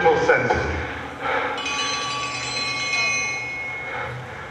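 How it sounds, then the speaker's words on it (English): A bell rings out during a school stage performance of Macbeth, a sustained ringing tone that starts after brief stage sounds and hangs on, fading slowly, with a faint low hum and room noise beneath. "The bell invites me."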